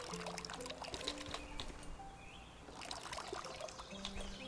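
Watering can pouring onto plants in the video game Hokko Life, a soft steady trickle of water under light game sounds and scattered chimes, faint throughout.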